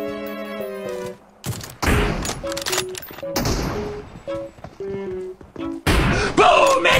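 Gunshots ring out in the video game BGMI: a burst of sharp, loud gunfire clustered in quick volleys, separated by short pauses filled with beeping game tones.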